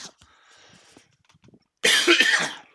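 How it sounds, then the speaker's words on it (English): One loud, harsh cough bursts out close by near the end, after a stretch of faint, scattered small sounds. "tickle cough"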